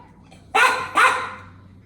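A dog at home gives two sharp, close barks in quick succession, loud against a quiet background.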